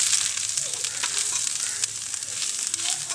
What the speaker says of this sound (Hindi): थोड़ी सी हल्दी भी डाल देती हूँ और इससे मिक्स कर देती हूँ।